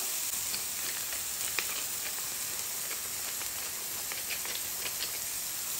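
A smash burger patty seasoned with salt and pepper sizzles in a pan, a steady, even hiss with faint scattered crackles and pops and no talking.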